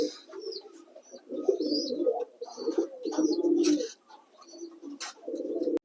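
Pigeons coo repeatedly at close range in a home loft where a breeding pair sits on eggs and squabs are hand-fed, with bursts of soft throaty cooing and a few brief chirps, no talking.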